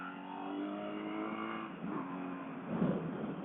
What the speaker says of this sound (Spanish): Ahí está el ruido del motor.